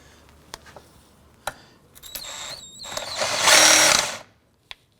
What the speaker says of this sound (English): Let's go ahead and install our 2 screws.